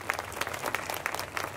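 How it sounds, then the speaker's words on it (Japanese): An outdoor night audience at a Universal Studios Japan monster dance show claps in sustained, dense applause, steady and fairly loud, with no voices over it. "墓場の歌姫にもう一度大きな拍手だ。"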